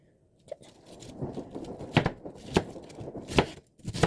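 A knife chops through cabbage on a cutting board, cutting it into fine shreds with several sharp, irregular strokes close by, some louder than others, after a brief quiet start.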